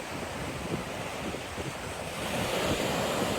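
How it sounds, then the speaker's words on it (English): Waves crash on the shore of Corito Bay Beach under a brisk wind, a dense, steady roar of surf with heavy wind buffeting on the microphone, swelling slightly louder toward the end, no voices. "Nothing like being on the seashore with a brisk wind and beautiful waves crashing on the shore."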